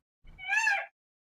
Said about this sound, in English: The peacock.